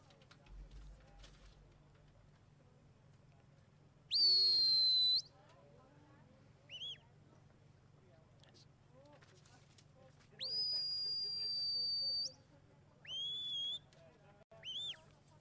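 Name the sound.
sheepdog handler's underwater whistle commands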